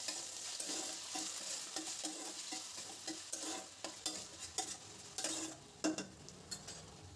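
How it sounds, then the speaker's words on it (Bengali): Potato frying in a pan with a paste of onion, ginger and green chili, a steady close sizzle with repeated scraping stirs that grow sharper toward the end, no talking. "আলুটা ভাজতে ভাজতে পেঁয়াজ, আদা, কাঁচা লঙ্কা বাটাটাও দিয়ে দেব"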